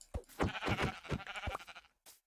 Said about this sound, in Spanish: hay ovejas de todos los colores aquí